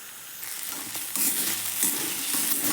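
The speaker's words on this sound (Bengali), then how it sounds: "এগুলো ভালো করে মিক্স করে আমি ভালো করে অল্প ভেজে নিচ্ছি" Nuts and ground spice mix fry together in a pan with a bright, close sizzle, punctuated by scraping and stirring sounds that swell the hiss in bursts.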